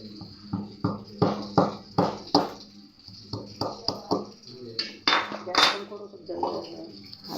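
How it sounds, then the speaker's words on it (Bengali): Ginger being lightly crushed in a home kitchen, a series of sharp rhythmic pounding knocks, about a dozen close, hard strikes in quick bursts, with a voice speaking faintly between them. "এবার আদরক আমি হালকা থেতো করে দিচ্ছি।"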